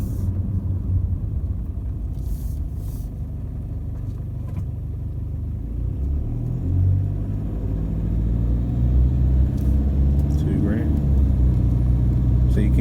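A car engine with freshly replaced injectors runs with a very light, consistent injector rattle, a steady low rumble that rises slightly as revs increase, loud and close.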